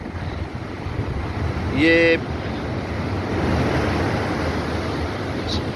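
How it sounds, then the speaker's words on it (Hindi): High sea waves, around eight to ten feet tall, crash at Hawkes Bay beach in Karachi: a steady loud surf roar with wind buffeting the microphone, a brief whistle-like tone and a short word spoken over it. "तो इस वक्त कम से कम 8 से 10 फुट ऊंची लहरें हैं"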